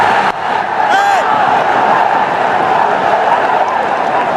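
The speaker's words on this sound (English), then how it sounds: "Let's listen to the crowd" A cricket stadium crowd at a Pakistan versus Bangladesh T20 match makes a broad, steady roar of distant voices and cheering, with a brief whistle-like sound rising above it near the start.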